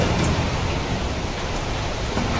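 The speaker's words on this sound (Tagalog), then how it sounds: "lumakas ang ulan, mas lumakas ang hangin" Heavy typhoon rain pours steadily in a dense, continuous roar, with a gusting wind rush blended in and no voices.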